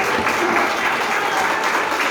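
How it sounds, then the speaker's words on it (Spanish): A church congregation gives strong, sustained applause, many hands clapping together in a dense, steady roar that fills the room without a break. "brindarle un fuerte y bonito aplauso para Jesús"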